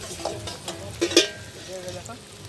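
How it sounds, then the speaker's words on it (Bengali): Cauliflower fries in a pan as fried rice is prepared at an outdoor New Year's Eve picnic. A soft, steady sizzle runs throughout, broken by a few sharp metallic clinks near the middle. "ফুলকপি ভাজা হচ্ছে।"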